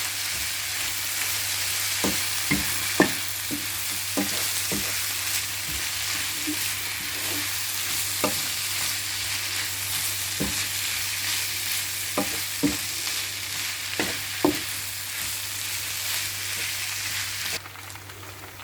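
Leftover prawn and chicken being stir-fried in a pan, with steady sizzling and frying throughout and repeated scraping, clattering strokes of a utensil stirring at an irregular rhythm, close and moderately loud, with no one speaking.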